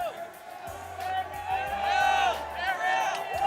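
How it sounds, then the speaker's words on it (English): A crowd at the UFC 244 press conference for Nate Diaz vs Jorge Masvidal cheers and whoops in a loud, echoing hall, with rising yells and babble that keep building. "Nate, listen to this crowd."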